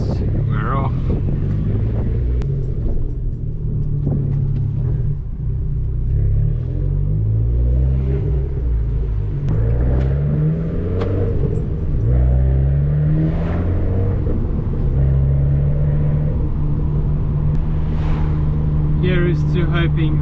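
A Fiat Abarth 595 pulls away on a country road, its engine droning and shifting pitch as it accelerates through the gears, with wind buffeting throughout and a voice talking over it.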